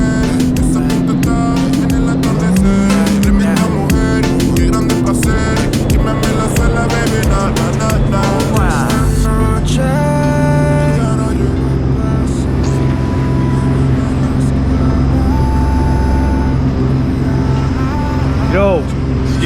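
A Sea-Doo RXT 300 jet ski with a JP Racing Stage 1 upgrade runs loud and close, its engine droning steadily with pitch swells as it revs, while a person talks over it.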